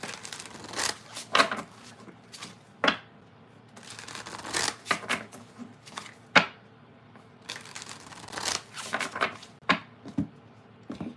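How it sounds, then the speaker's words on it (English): A tarot card deck is shuffled by hand close up, bursts of riffling and slapping cards in irregular rounds separated by short pauses, with no voices. "last deck to shuffle"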